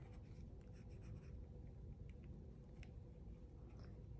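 A pen traces a design onto cardboard with firm pressure, giving a quiet, continuous scratching and scraping at close range, rising and falling in small strokes with no talking.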